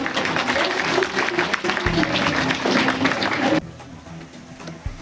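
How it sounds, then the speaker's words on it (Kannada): Audience applause at a teachers' felicitation ceremony in a village hall, a dense loud clatter of many hands that runs steadily for several seconds, then drops off abruptly to a quieter room with a few stray sounds. "ಎಲ್ಲರೂ ಚಪ್ಪಾಳೆ ಜೋರಾಗಿ ತಟ್ಟಬೇಕು"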